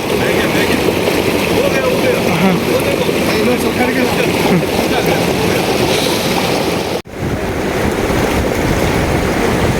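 Cold river water rushes in a steady broadband roar below a rope trolley crossing near Manali, loud and continuous, with wind buffeting the microphone and a brief dropout partway through.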